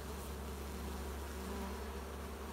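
Dense swarm of honeybees buzzing steadily as they stream out of a hole in a car door, a continuous close droning hum with no voices.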